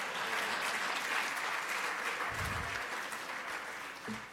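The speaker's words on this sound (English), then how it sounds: "So give me a round of applause for all of that." Sustained audience applause from a crowded hall at the Grand Bahama Technology Summit in Freeport, steady and dense throughout before tapering slightly near the end.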